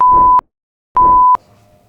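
Two short, loud censor beeps in quick succession, each a flat pure tone about half a second long, masking the speech beneath them with a clean gap between the two.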